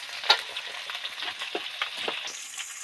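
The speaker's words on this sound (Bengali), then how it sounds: "মাছটা ভাজছি এত ফ্লেভার বেরিয়েছে" Small roe-filled fresh mourala fish fry in a pan, giving a steady close sizzle broken by light scraping and stirring clicks, with no talk.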